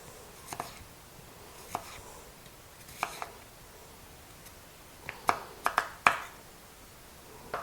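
A knife cuts 2.5 pounds of russet potatoes into bite-sized pieces for a creamy slow-cooker potato soup, giving sparse, irregular sharp taps on a cutting board, fairly faint over quiet room hiss, with no talking.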